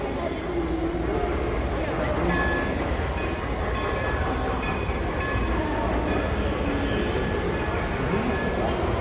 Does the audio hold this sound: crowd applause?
no